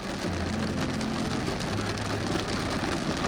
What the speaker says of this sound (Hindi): सनसेट होने से पहले यहाँ पे बहुत तेज़ बारिश हो गई है